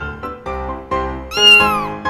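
A cartoon kitten stuck up a tree meows several times in quick succession, close and clear, the last call longer and higher, with no speech.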